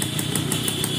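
A small TVS XL moped engine, freshly rebuilt after an overhaul, runs close by in a steady, rapid, even putter with no voices.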